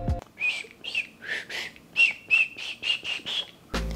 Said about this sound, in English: This required using my Beastmaster whistle